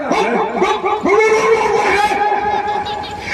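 At a Ramlila comedy stage show, a performer imitates a dog with his voice, giving a string of yelping bark-like cries, close and loud, followed by a drawn-out whining howl.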